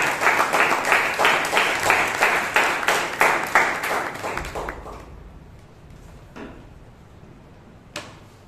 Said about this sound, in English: let's call on with a thundering round of applause